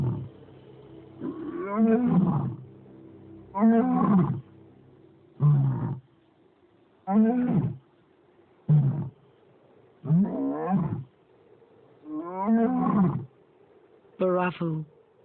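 Lions of a small pride in a harsh, dry land roar in a long series of deep, rhythmic grunting calls, each burst a second or so long, evenly spaced and fairly close, with no talking.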